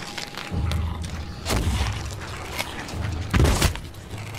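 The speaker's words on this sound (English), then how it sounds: "Why the heck do I hear cannon fire?" Cannon fire in the Sea of Thieves pirate game: several deep booming blasts, the loudest near the end, each with a low rumbling tail.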